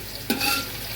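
Bay leaves and onions fry in hot oil for chicken biryani, with a steady close sizzle throughout and one sharp stirring scrape partway through, then continuous frying hiss with no talking.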